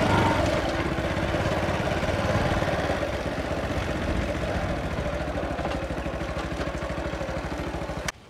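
A motorcycle engine idles with a steady, fast, even chugging pulse close by for several seconds, then cuts out abruptly at the end.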